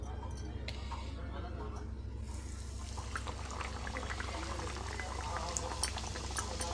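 Chicken kachoris dropped into hot refined oil in a home kitchen, giving a steady close sizzle and bubbling that grows busier after a couple of seconds, with crackling pops throughout.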